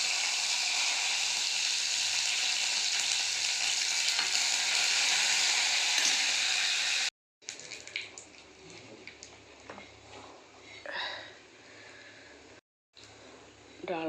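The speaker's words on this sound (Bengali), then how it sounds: "এবার ফোড়ন দেবো সর্ষে, শুকনো লঙ্কা তেলে দিয়ে দিলাম" Mustard seeds and dry red chillies sizzle loudly in hot oil as tempering for a sour mango-powder dal, a steady dense crackle broken by two brief cuts, with spitting pops and stirring clatter in the later part.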